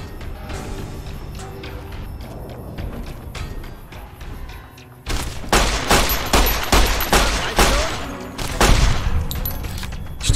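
Rapid gunfire in the Fallout: New Vegas video game, scattered shots at first, then a loud, dense burst of repeated shots that keeps going. No voices are heard.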